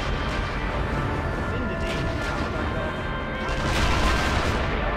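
Gunfire in the video game Sniper Elite V2: repeated distant shots and rattling bursts over a dense battlefield rumble, growing louder toward the end, with a voice talking over it.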